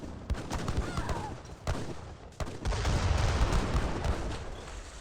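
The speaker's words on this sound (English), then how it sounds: "All exploded by the mortars before it gets torched down" Mortar shells exploding over a town center in Age of Empires 3, a string of booming impacts mixed with crackling gunfire, rising into a sustained rumble of battle.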